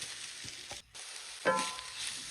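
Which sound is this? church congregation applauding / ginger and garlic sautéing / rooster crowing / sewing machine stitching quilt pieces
ginger and garlic sautéing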